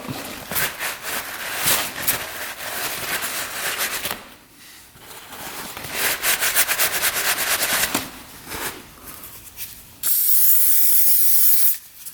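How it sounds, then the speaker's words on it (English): WD-40 sprayed onto gunked-up dirt bike reeds, a loud close hissing spray in several bursts with crackling spatter, ending in a sharper high hiss, with no talk. "We're gonna lather this thing up with WD-40."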